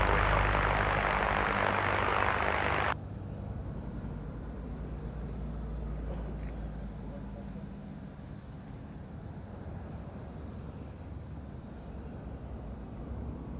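An aircraft on approach to Madeira airport in gusty tailwind conditions, heard as a loud, steady broadband roar for about three seconds that cuts abruptly to a quieter low rumble.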